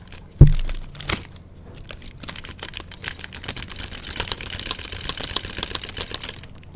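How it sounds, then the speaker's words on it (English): A bunch of car keys jingles and rattles close by, starting with a couple of sharp clinks and then building into continuous bright, metallic shaking that grows busier and louder toward the end. "I would like to introduce you guys to the pleasant noise of car keys jingling."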